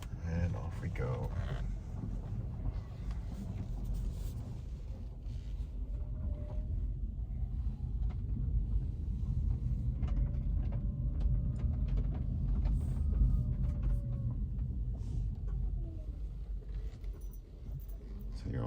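A 2022 Rivian R1T electric pickup drives along with a quiet, steady low road rumble and faint tire noise, broken by small rattles and clicks inside the cabin.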